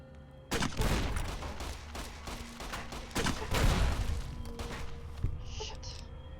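Grenade rifle firing in Fallout New Vegas, several loud booming blasts with rumbling explosions that roll together across the stretch, dense and close.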